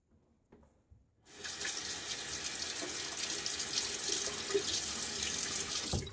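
A water tap runs steadily into a sink to rinse a safety razor, starting abruptly after a quiet moment of small clicks and then flowing in a continuous close hiss.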